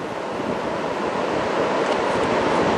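Ocean surf breaking at North Torrey Pines beach, a steady, loud wash of waves with wind rushing across the microphone and no voices.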